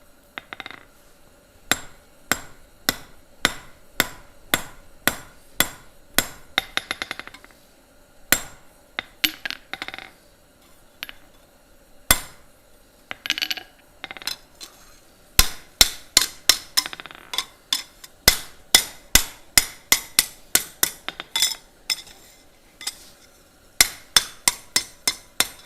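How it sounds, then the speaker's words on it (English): Steady hammer blows on hot metal at a forge, sharp ringing strikes in quick rhythmic runs with short pauses between bursts, loud and close. "keep rolling into each hammer blow and you keep your hammer blows consistent"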